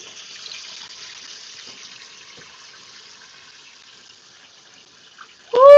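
A tap runs steadily and quietly as a wig is rinsed under the water, and a short, loud vocal exclamation cuts in right at the end.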